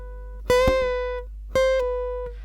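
Two plucked electric guitar notes, each bent up a half step in pitch and left ringing before fading.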